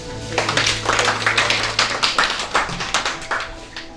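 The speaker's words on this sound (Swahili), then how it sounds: "Mpigie Mungu makofi." A church congregation at a celebration-of-life service claps together in a loud, rapid, fairly even burst lasting several seconds.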